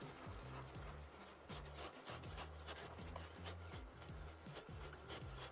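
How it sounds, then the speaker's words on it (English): Heavy cream is whisked into a Cajun shrimp pasta sauce, giving a steady, rhythmic scraping and rasping of the whisk against the pan that runs throughout, close and fairly loud. "We're going to whisk in that heavy cream."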